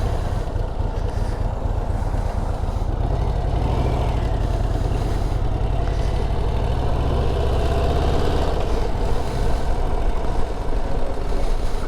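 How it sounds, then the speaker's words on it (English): A 2025 Harley-Davidson Low Rider ST with a quiet exhaust runs underway, its engine a steady low droning rumble mixed with rushing wind noise, continuous and close. "The exhaust is so quiet you can hear the engine running."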